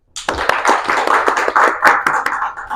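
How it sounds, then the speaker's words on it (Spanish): Short burst of audience clapping during a live-streamed law class, close and fairly loud, with brisk uneven hand claps for under three seconds. "Un aplauso para Ninosca."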